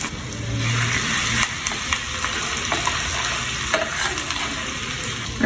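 Chopped ginger frying in freshly heated ghee for temple-style ven pongal, a steady close crackling sizzle with stirring scrapes throughout, no talking.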